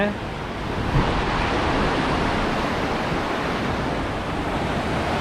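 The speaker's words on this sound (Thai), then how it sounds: "สู้น้ำหลังเขื่อนไม่ได้เลยคลั่งกว่ากันเยอะ" Turbulent river water churning below the Mae Klong dam in Thailand, a loud, dense, continuous roar of rushing water that stays steady throughout.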